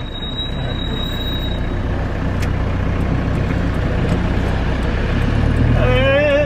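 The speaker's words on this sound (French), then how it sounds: "Il y a un camion là." A truck passes on a road near a camper van, its broad engine rumble steady and close throughout, with a rising whine near the end and voices talking over it.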